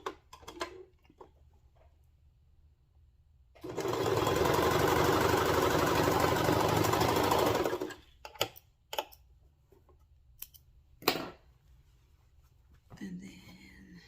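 Sewing machine stitching the crotch seam of overall shorts, a steady continuous whir of about four seconds standing alone, with quieter handling clicks and brief talk around it.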